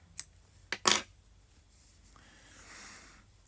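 Two or three soft, quick snips as scissors trim a yarn tail on a crocheted granny square, close and quiet, with faint handling noise afterward.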